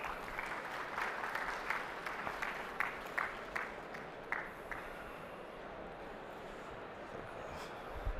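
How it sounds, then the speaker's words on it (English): An audience applauds steadily for Mr. Alexander at a tokenized-assets talk, with dense clapping filling the room at a moderate level before tapering slightly toward the end. "a big round of applause for Mr. Alexander"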